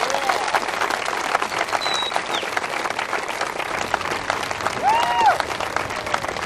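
A crowd applauds a cancer survivor's speech at a Relay For Life event, with dense, sustained clapping throughout and a few whistles and cheers rising through it.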